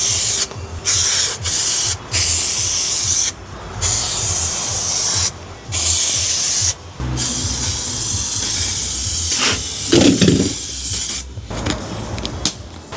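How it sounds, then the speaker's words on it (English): Adhesive spray bursts from an aerosol can while insulating a van cab, several hissing sprays of a few seconds each separated by short pauses, close and fairly loud, with rustling and handling noise near the end. "So you spray the adhesive on"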